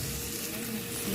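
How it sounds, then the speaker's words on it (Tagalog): Squid dropped into a hot pan sets off a loud, steady sizzle of frying oil that holds evenly throughout the short moment. "Ilagay na natin guys yung ating squid."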